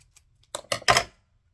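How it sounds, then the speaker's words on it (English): Scissors cut paper for a collage, three quick close snips in a row, each a crisp rustling crunch, with near silence around them. "Might be a good idea to cut it off there before I stick it on"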